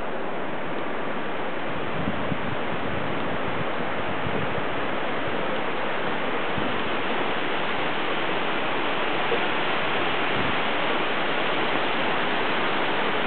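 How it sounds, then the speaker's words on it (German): Loud, steady rushing water roars without pause beneath the Trift Bridge, a dense continuous wash of flowing current with no voices. "Mächtig viel Wasser, das hier abläuft."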